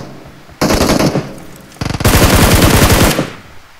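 Automatic gunfire from the mobile battle-royale game PUBG Mobile, heard as two loud, close, rapid bursts, a short one followed by a longer sustained volley, with no talking.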